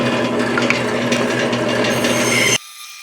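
A bandsaw cuts a spoon shape out of a wooden blank, a steady, loud rasping whir running without a break for most of the clip, then cutting off sharply near the end, leaving only a low hum.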